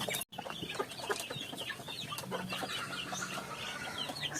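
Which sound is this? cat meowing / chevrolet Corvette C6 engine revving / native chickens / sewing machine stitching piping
native chickens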